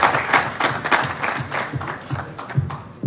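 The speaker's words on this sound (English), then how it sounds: "we should clap for them as well" Scattered audience clapping at a cricket trophy unveiling ceremony, uneven bursts of claps at a moderate level with little voice over them.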